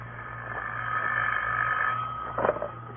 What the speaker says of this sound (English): As I came up the stairs, I heard my phone ringing.